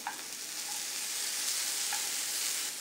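Porcini mushrooms fry in olive oil with a little salt in a pan, giving a dense, steady sizzle with a few faint clinks of turning, close and continuous with no talk.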